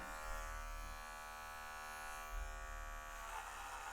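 Electric hair clippers fitted with a 1.5 guard cut the top of afro hair for a low social cut, giving a steady close buzz that runs without a break and roughens slightly near the end.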